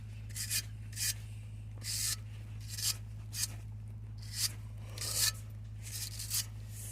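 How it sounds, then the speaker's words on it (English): Wire brush scrubbing a brake caliper holder from a Vauxhall/Opel Astra where the pads sit, a series of short rasping strokes in an irregular rhythm, close and fairly quiet over a steady low hum. "A wire brush."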